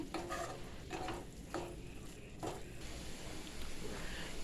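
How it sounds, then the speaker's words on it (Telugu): A coconut laddu mixture cooks in a pan and is stirred steadily, giving a soft scraping and squishing sound over a low sizzle. The sound is quiet and continuous. "కలుపుకుంటా ఉండండి మాడకుండా."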